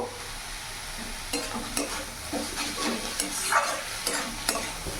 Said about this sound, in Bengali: এখন আরও দু থেকে পাঁচ মিনিট একটু ভাজা ভাজা করে নেবো